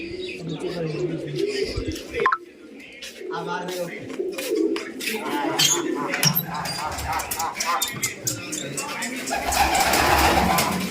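Pigeons coo softly and repeatedly nearby in concrete-roofed nesting boxes, with scattered chirps, while people talk over them throughout.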